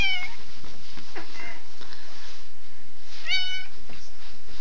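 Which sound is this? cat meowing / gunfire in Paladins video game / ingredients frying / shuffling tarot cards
cat meowing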